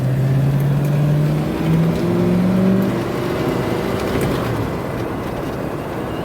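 A 1977 Cadillac Seville drives and turns, its engine a steady low hum under heavy wind and road rumble, loud and continuous with a slight pitch sweep.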